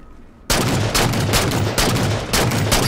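Sniper rifle fire in the Halo 4 video game: a run of loud, sharp, booming shots in quick succession, each with a short echoing tail, and no talk.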